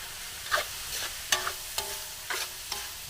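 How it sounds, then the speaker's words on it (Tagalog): A spoon or ladle stirs a Spanish mackerel stew in a pot, giving several separate scraping and clinking strokes at an uneven pace, close by, over a faint steady simmer. "hahaluin ulit"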